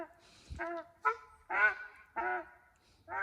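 Several loud nasal honks and quacks from nearby ducks in quick succession, uneven in rhythm, with short pauses between calls.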